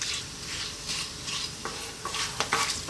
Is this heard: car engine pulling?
no